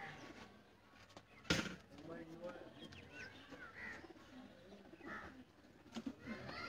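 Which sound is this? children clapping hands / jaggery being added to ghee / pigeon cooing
pigeon cooing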